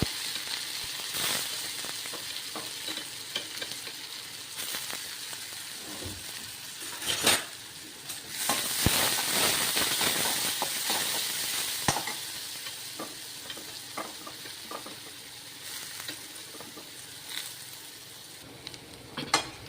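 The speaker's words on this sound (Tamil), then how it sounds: "வெங்காயம் நல்லா வதங்கிருச்சு." Oil sizzles steadily in a pan as small onions fry, with repeated scraping and stirring and occasional clinks of a spoon against metal.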